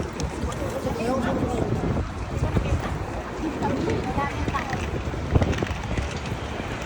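Blustery cold wind in New York buffets the microphone in low rumbling gusts, rising and falling throughout, with a faint voice mixed underneath.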